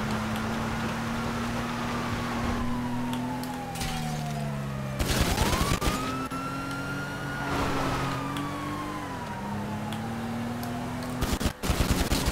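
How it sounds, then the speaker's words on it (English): Bursts of gunfire crack out in a video game police chase, loud clusters of shots around five to six seconds and again near the end, over a steady wailing police siren and a droning car engine. "Are you guys shooting shit up?"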